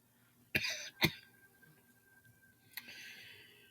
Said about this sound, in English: See that cough?